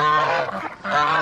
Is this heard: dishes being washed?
no